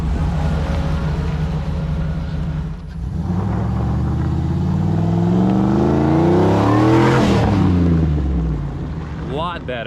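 A tuned V8 Jeep Wrangler revs up and accelerates hard at full throttle, a loud rising engine roar passing close by with a gear shift, outdoors with brief voices.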